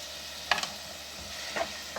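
Bhindi masala spices with turmeric, red chilli and salt being stirred and sautéed in a pan, two short scraping, sizzling bursts over a soft steady hiss, close and fairly quiet.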